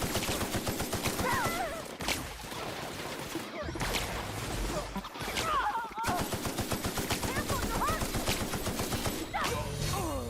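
Rifle fire in The Outer Worlds, rapid bursts of shots crackling in quick succession with short pauses between volleys, against busy combat noise throughout.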